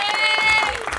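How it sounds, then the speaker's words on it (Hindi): Audience applause at a film press conference: a dense, steady wash of clapping from a crowd, loud and continuous through the moment, with a faint tone running underneath. "उनके लिए एक बार जोर ताली बजा दीजिए आप लोग"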